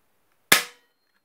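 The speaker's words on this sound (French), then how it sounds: "on entend un petit peu le ressort faire du bruit" The spring mechanism inside a manual fire alarm call point triggers with a single sharp, close mechanical snap that decays quickly into silence.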